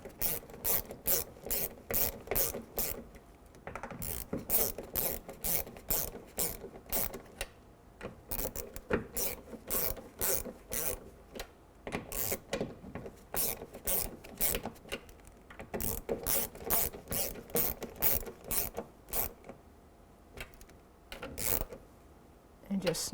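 Plastic mirror base nuts on a 2005-10 Jeep Grand Cherokee are snugged down in an alternating pattern, giving a long series of quick, close ratcheting clicks in short bursts with brief pauses.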